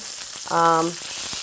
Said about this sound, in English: We'll let this go for about a minute just to get a nice sear on that side.